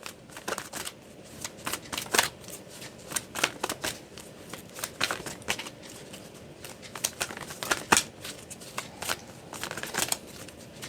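Oracle cards are shuffled close up for a tarot reading, in quick riffling bursts that repeat in an uneven rhythm with short pauses between, crisp and fairly loud, with no speech.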